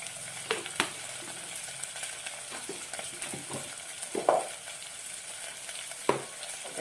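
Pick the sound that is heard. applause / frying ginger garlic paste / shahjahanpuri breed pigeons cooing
frying ginger garlic paste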